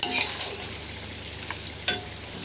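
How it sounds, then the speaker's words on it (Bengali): Boiled taro leaves with lentils are sautéed in a pan, giving a soft, quiet sizzle with a few sharp spatula scrapes at the start and later. "এখন আমি সুন্দর করে এটাকে কষাবো তাহলে রেডি হয়ে যাবে"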